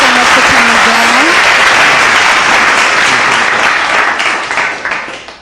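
Dense applause from a talk-show studio audience welcoming a guest, with a voice talking over it at the start; the clapping holds steady, then thins and fades away toward the end.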